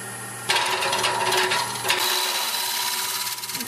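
A woodturning tool gently scrapes the edge of a mesquite hollow vessel spinning on a lathe. The rough, steady shaving sound starts abruptly and continues close by with slight fluctuations.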